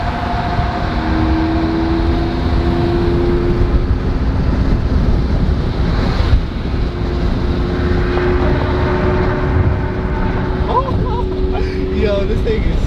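Lamborghini Aventador engine idling with a steady, loud, deep rumble and a faint whine, heard from inside the car, with people talking over it.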